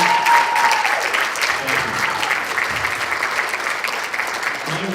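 Loud, close audience applause for Mr. Flores at a school board of education meeting in a middle school, dense clapping that holds steady and eases slightly, with a brief voice near the start.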